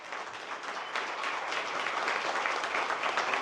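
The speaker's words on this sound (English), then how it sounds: "Can everybody give Hayden a round of applause real quick?" A crowd at a live event bursts into sustained applause for a guest named Hayden, the clapping building slightly and holding at an even, dense level with no talk over it.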